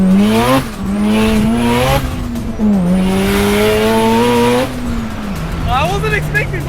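LS V8 swapped into a Mazda RX-7 FD revving hard, a loud, close engine note holding and climbing in pitch over several seconds, then dropping off near the end as talk comes in.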